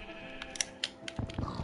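Sheep in the Minecraft video game bleat in a couple of short, fairly quiet calls alongside soft clicking sounds.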